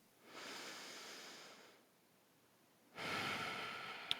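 Two slow, deep breaths close to the microphone, a long soft inhale followed after a pause by a second airy breath, quiet and without talking.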